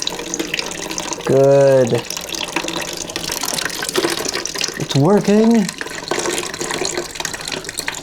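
Coolant gurgling and splashing through an old watercooled PC loop as air bubbles are drawn through, a steady running-water sound under two brief stretches of nearby talk.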